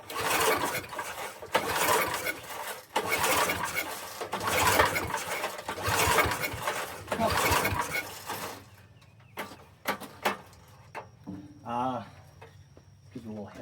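A small engine being started after carburetor work sputters in loud, rhythmic bursts for about eight seconds, then cuts out, leaving quieter clanks and a voice speaking.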